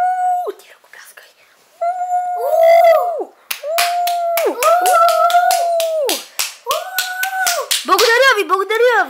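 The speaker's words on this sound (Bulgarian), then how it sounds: "Ти ръкопляскай." Hands clap in quick, steady bursts under loud, drawn-out cartoonish vocal sounds that sing and talk over the claps almost throughout.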